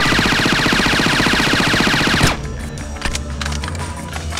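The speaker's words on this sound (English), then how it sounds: "The binary trigger offers semi-automatic fire with a half squeeze and fully automatic fire when you hold the trigger down." Rapid fully automatic rifle fire from a binary-trigger weapon in Splinter Cell: Chaos Theory on PlayStation 2, a dense rattling burst for about two seconds that cuts off abruptly, followed by scattered clicks and lighter shots.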